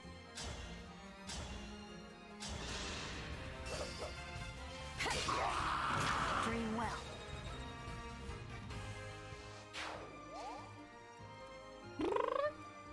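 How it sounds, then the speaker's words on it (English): A cat gives a short meow near the end, heard over busy Fire Emblem Engage sound effects, whooshes and impacts. "What you meowing about?"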